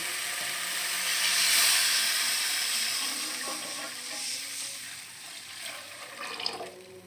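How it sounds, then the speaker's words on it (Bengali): Water for a coconut-paste curry comes to a boil in a pot, giving a steady, close, hissing bubbling that swells and then eases, with a few faint clinks near the end and no speech. "পানি ফুটে গেছে, এখন তরকারি দিয়ে দেব।"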